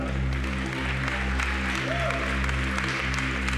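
A congregation claps in a church service, a short burst of moderate applause over a steady low electrical hum, with a brief voice rising through the middle.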